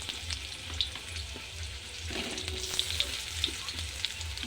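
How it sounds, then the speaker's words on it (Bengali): Potatoes fry in hot oil seasoned with black cumin, giving a steady, close sizzle with faint crackles and a few brief pops over about four seconds, with no talking. "আলুগুলো লাল লাল করে ভেজে নেব"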